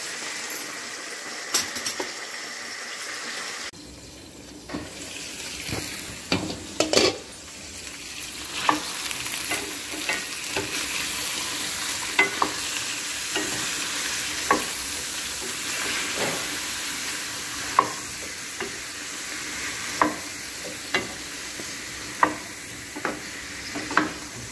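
Eggplant pieces for a masala stuffed eggplant curry fry with turmeric in a pan, giving a steady, close sizzle and hiss broken by regular scrapes and taps of the spoon as they are stirred.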